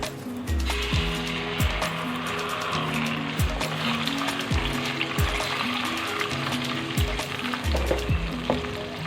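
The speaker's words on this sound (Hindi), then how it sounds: "अब इसको थोड़ी देर के लिए भुनेंगे।" An onion and tomato paste sizzles and fries steadily in a pan, with regular scraping knocks as it is stirred, close and fairly loud.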